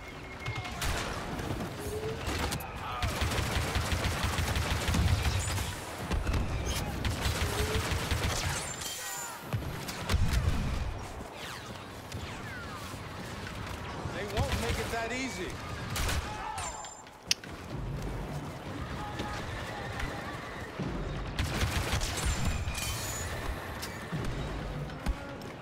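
Blaster fire from Star Wars Battlefront 2 on Endor comes in dense, rapid bursts of sharp shots, repeating across the stretch with brief pauses, loud and layered over battle noise.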